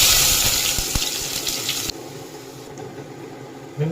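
Onions sautéing in a pan for egg masala give a loud, steady broadband sizzle that cuts off abruptly about halfway, leaving a quieter frying hiss with a brief clatter near the end, no talk.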